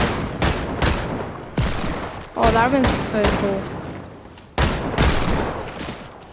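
Hand cannon shots ring out in Fortnite gameplay: a run of sharp, loud blasts, some spaced apart and some close together, while a player talks over the action.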